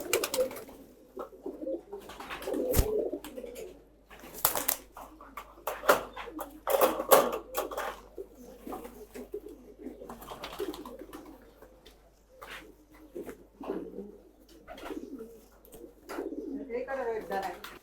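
Pigeons coo repeatedly in soft, throaty bursts, close by, with occasional clatters and rustling in between.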